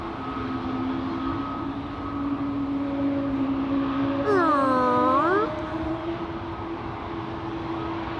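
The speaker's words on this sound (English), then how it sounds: "Emirates flying away over there, flight 146" Emirates flight 146 to Dubai departs Amsterdam Schiphol, a distant jet roar that stays steady under a constant airport hum, with a whining tone that sweeps down and back up midway.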